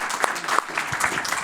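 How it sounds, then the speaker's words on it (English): Applause from a tech-festival audience at a panel discussion, a short burst of clapping with some voices mixed in. "Help me give them a round of applause."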